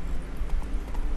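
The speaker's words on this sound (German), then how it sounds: "Auf dem Pferd sind wir immerhin ein bisschen schneller, als wenn wir laufen." Horse hooves clip-clopping in The Witcher 3 video game, a steady rhythmic trot of quick repeated thuds under a low ambient background.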